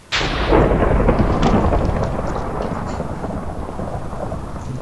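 Thunder from a lightning strike in a Minecraft survival games match cracks sharply and then rolls into a long rumbling decay, loud and close, with rain-like hiss beneath and no talking.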